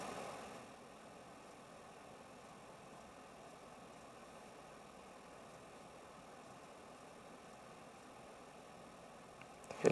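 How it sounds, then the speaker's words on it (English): A low, steady engine rumble drones far off in the distance, faint and unbroken for the whole stretch, with only a slight bump at the very end. "you can even hear the rumble of an engine"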